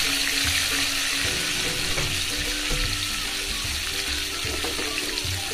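Spices and stuffed brinjal fry in a pan over medium heat, giving a steady close sizzle with a few light clinks.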